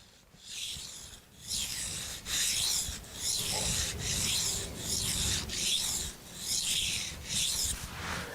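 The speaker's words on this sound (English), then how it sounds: "Now with a coarser stone, I'll use more pressure than with a finer stone." A blade is drawn with firm pressure across a coarse sharpening stone in repeated rasping strokes, about eight evenly spaced scrapes, close and loud with short pauses between.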